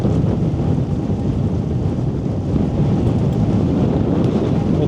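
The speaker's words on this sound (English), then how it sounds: "Although there is a heavy wind across here, I can feel it." Heavy wind blows across an open street area outdoors, a loud, constant low roar and buffeting against the microphone with no other sounds over it.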